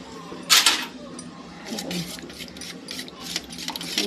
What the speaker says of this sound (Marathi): अद्रक हे आता मी थोडंसं पाणी टाकून फेटून घेणार आहे